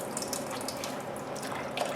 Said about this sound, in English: start adding water to it